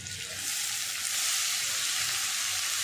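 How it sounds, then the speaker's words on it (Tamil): A large batch of mixer-chopped onions fries in hot oil for prawn thokku. The close, steady sizzle holds bright and continuous throughout, with no talking. "எண்ணெயில் போட்டு பொரிச்சுக்கிற மாதிரி தான்."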